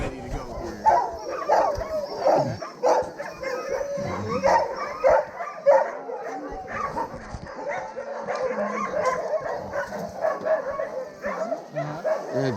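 Sled dogs in Juneau, Alaska bark, yip and whine excitedly before a sledding run, a continuous chorus of overlapping near and distant voices with occasional human talk mixed in.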